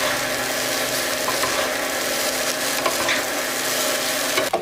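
Cooked rice being stirred and tossed with a spice mix in a pan, a steady close scraping and shuffling over a constant sizzle, with a few sharper clinks of the utensil near the end.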